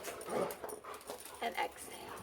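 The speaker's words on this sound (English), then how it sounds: "that's the dogs playing" Indoors, dogs at play give whimpers, yips and panting, moderately close, with sounds picking up in short bursts while a person talks over them.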